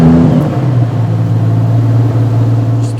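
A 2027 Brabus Bodo engine holds a loud, steady low drone after a brief rise at the start, alone and close throughout.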